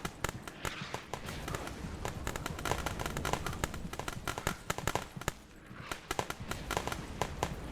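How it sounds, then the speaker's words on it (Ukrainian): Gunfire crackles through the Ukrainian war video game Glory To The Heroes as dense, irregular volleys of sharp shots, close and loud, running almost continuously with a brief lull midway before the firing picks up again. "десь іде стрільня, але де хто стріляє, не зрозуміло"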